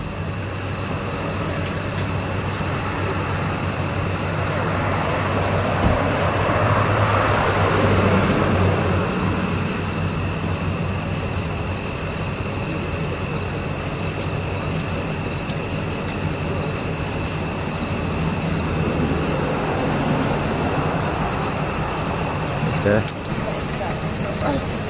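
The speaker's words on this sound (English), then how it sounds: "The planes are getting worse." Airplanes fly overhead near the Kentucky State Penitentiary, a steady loud jet engine roar that persists throughout, with broad noise swelling and fading, while people talk over it.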